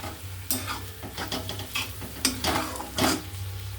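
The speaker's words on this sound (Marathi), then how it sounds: "इथे मी थोडंसं कढीपत्ता घालणार आहे" Curry leaves dropped into a hot pan while making a Konkan-style vegetable dish, giving a few sharp bursts of sizzle and stirring clatter over a steady low frying hiss, close by.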